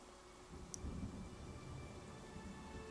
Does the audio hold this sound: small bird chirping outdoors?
no